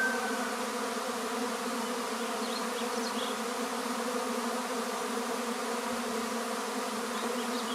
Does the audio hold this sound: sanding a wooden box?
no